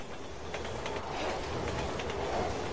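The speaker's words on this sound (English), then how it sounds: "Train's coming!" A train rushes past in Resident Evil 6 with a dense, steady roar of rumbling and rattling that swells slightly toward the end, heard alone without speech.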